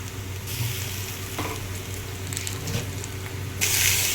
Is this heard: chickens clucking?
no